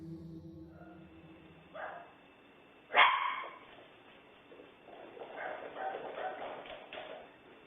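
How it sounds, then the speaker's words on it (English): Two dogs bark and yip faintly in a quiet night-time surveillance recording, with one sharp, louder bark standing out and scattered distant barks and scuffling from running paws continuing afterward. "You can see and hear the 2 dogs running and barking"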